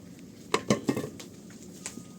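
Metal pots and pans clank and knock together a few times in quick succession, close by, followed by a faint ring.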